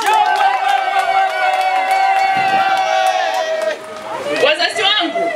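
Rally crowd at a political campaign event, loud cheering and high shouts and whoops from many people, including children, rising and falling over a few seconds with chatter mixed in.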